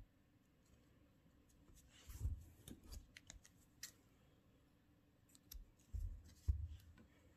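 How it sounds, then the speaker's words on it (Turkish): Scissors snip yarn after crocheting the skirt of an amigurumi doll, giving a few faint, close clicks and snips against quiet room noise. "ipimi buradan kesiyorum sabitleyip"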